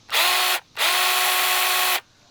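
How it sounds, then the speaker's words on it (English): A miniature electric chainsaw runs in two loud, steady whining bursts, a brief one and then a longer one, with a short pause between and no talking. "they also make this cool miniature electric chainsaw"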